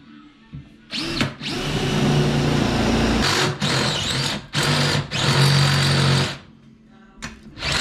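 A power drill bores a hole in metal during a windscreen wiper conversion on a 1951 Chevrolet, running in several loud, close bursts of whining grind separated by brief pauses.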